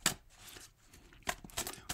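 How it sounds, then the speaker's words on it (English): Tarot cards are shuffled close up in quick, soft riffling bursts, a flurry at the start and another cluster of crisp card flicks toward the end, with quiet gaps between. "One more shuffle."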